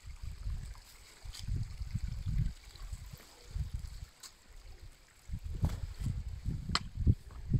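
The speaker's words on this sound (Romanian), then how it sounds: "Aici curge apa pe pietre," Water running and splashing over stones nearby, in uneven surges with low rumbling gusts between them.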